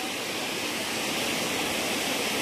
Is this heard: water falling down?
yes